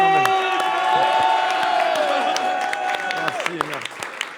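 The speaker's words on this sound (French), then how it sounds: "On peut l'applaudir bien fort" Audience applause and cheering in a French talk-show studio, loud sustained clapping with whoops throughout while someone speaks over it, the clapping thinning toward the end.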